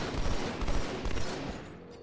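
Dense rapid gunfire in the Halo 2 video game on Legendary difficulty, aimed at Flood creatures, with bursts of shots packed together and loud throughout the short stretch, then fading slightly at the end.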